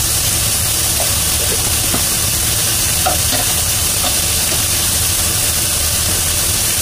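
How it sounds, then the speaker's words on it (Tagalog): Chicken breast is stirred in a hot frying pan, a loud continuous sizzle with a low rumbling hum beneath and faint scraping taps of the utensil against the pan. "Haluin natin."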